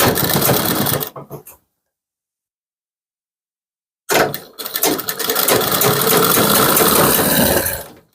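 An electric sewing machine stitches the hem of a kurti with a loud, steady mechanical whir. It runs for about a second, stops into silence, then starts again and runs continuously for several seconds before stopping.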